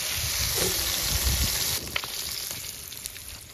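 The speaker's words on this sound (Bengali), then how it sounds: "চটপট তেল গরম হয়ে গেছে, এখন মাগুর মাছ ভাজবো।" Magur catfish pieces sizzling and spitting in hot oil, a steady loud crackling fry with bubbling that eases slightly partway through.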